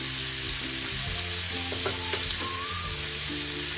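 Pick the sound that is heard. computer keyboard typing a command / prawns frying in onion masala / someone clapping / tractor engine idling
prawns frying in onion masala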